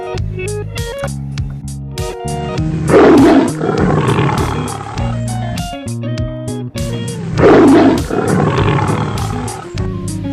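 A toy tiger's recorded roar plays loudly, two big roaring bursts rising out of a busy electronic jingle with bright repeated tones, close and clear, no talking.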